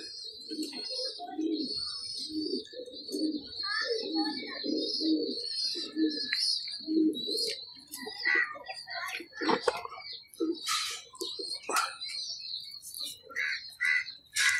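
Pigeons coo in soft repeated low bursts close by, with sharper chirps and rustling later, while someone talks intermittently over them.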